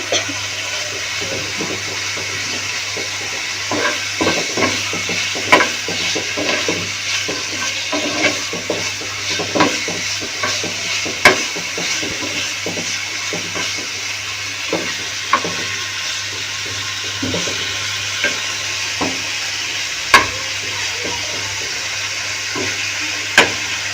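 Mutton fries in oil in a pan, a steady low sizzle under a constant background hum, broken every few seconds by sharp clacks and scrapes of stirring, close and moderately loud.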